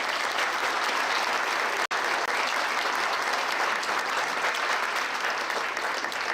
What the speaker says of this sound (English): can we give these kids a round of applause for that?